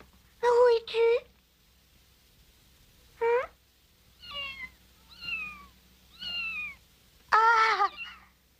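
A small house cat meows several times, short close cries spaced out through a quiet room, a few louder and a few softer, with no talking in between.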